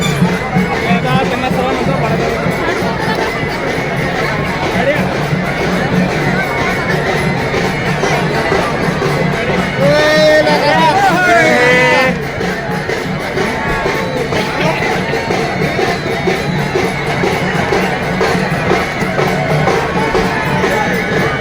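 A festive crowd of devotees at the Khandoba palanquin procession fills the air with loud, dense babble and cheering, continuous throughout, with a brief burst of shrill whistles or cries near the middle.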